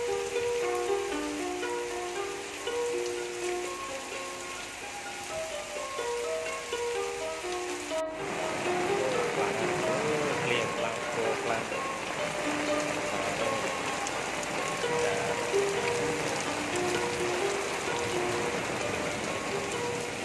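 Heavy rain falls on rural rice-field countryside. A steady, dense hiss fills the second half after a tonal opening, with no voices.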